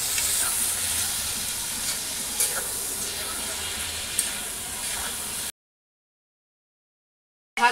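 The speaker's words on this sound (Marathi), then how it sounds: "पहिला भाजून घेते कांदा टोमॅटो।" Onion and tomato roast in a pan with a steady, close sizzle and hiss for about five seconds, then cut to silence before a brief burst at the end; no one speaks.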